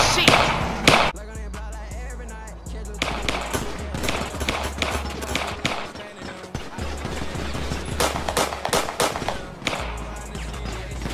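A volley of sharp gunshots cracks out in irregular bursts during a tense street drama scene, loud and close, mixed with thumps, shouting and talk between the shots.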